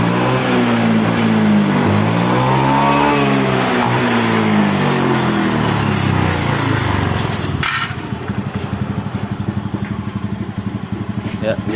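A Honda Beat scooter with a fuel-injection fault is revved, its small engine note rising and falling unevenly before settling into a rough, stuttering idle, close and loud under a man's speech.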